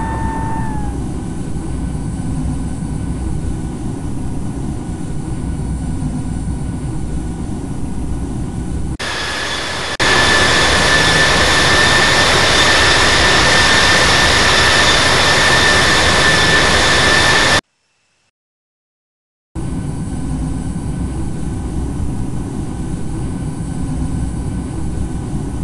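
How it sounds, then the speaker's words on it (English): Boeing 747-8 jet engines spooling up for takeoff on runway 31 at Palm Springs in the Infinite Flight simulator game: a steady, loud roar that swells sharply partway through, cuts out briefly, then resumes, with no voices. "runway 31 left, cleared for takeoff"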